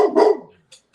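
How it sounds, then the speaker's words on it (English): A single sharp, loud dog bark close by, followed by a faint short yip. "But Bubs, people can't hear me when you're barking."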